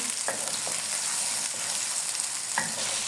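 Finely chopped onions fry in hot oil in a pan until lightly browned, giving a steady, close crackling sizzle with a few soft scrapes of stirring.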